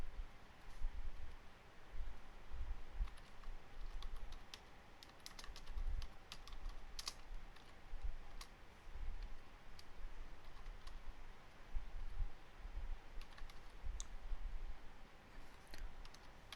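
Close, quiet clicking of computer keyboard keys in irregular bursts as code is typed, with a soft low background hum underneath.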